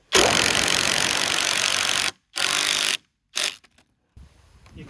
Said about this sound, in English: We'll put our 3-inch stainless steel screws in there.